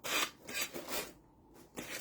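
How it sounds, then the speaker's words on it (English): Close, coarse rasping strokes of hand sanding with a sanding brick, a few short back-and-forth passes with a brief pause between them. "Very cautious with the sanding brick, hopefully"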